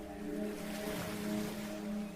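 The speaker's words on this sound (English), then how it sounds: "Listen to the sound of the distant waves crashing against the base of the lighthouse." Distant ocean waves wash against the base of a lighthouse in a slow, steady surge, blending with a soft tonal drone throughout.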